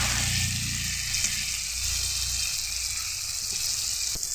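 Masala paste for Kadaknath black chicken fries in hot oil with a steady, close, dense sizzle that holds evenly throughout and has no voices over it.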